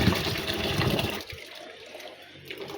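Soapy, foamy water splashes and sloshes in a tub for about a second, then fades to quieter trickling.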